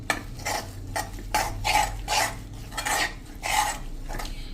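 A spoon scraping and stirring a thick Mysore pak mixture in a pan: rhythmic, close scraping strokes about every half second, with soft metallic knocks and no talking.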